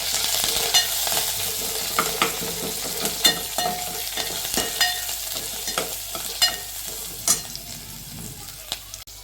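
Garlic and green chilli paste sizzles and crackles in a hot pan, with repeated sharp scraping stirs punctuating the steady frying hiss.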